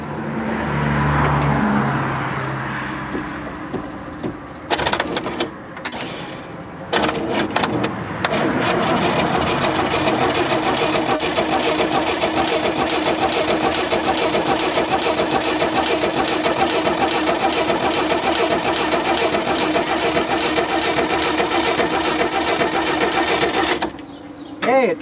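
A 1969 Camaro that sat outside for ten years cranks over on its starter without firing, a steady loud rhythmic churning that runs for about twenty seconds after a few brief bursts, close up, with no talk.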